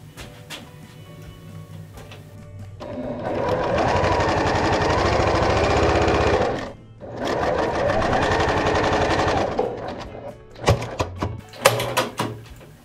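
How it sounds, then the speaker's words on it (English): A sewing machine with a quarter-inch foot stitches two right-sides-together fabric squares for half-square triangles, humming loudly and steadily in two long runs separated by a brief stop, followed by a few light clicks and taps. "Using a 1/4-inch foot, we're going to sew onto both sides of the line."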